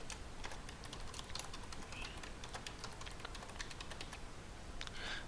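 Someone types a password on a computer keyboard, a steady run of soft, close key taps with a few louder clicks over quiet room hiss.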